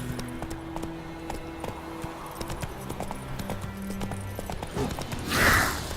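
A horse in The Witcher 3 trots with rapid, regular hoofbeats close by over a low musical drone, ending in a brief loud whoosh-like burst.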